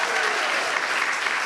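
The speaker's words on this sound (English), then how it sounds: "Give him a big applause." An audience at a conference forum claps in a dense, steady wash for an improviser as he is introduced on stage.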